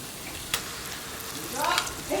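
Onion paste fries in oil for an egg curry, giving a soft steady sizzle with a brief click and a slightly louder hiss of stirring toward the end, fairly quiet and close.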